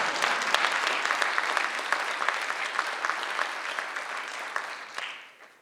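Audience applause greets a world-class entertainer, the first African-American with a doctorate in tuba, at a National Hunger and Homelessness Week event: steady dense clapping from a crowd, fading out near the end.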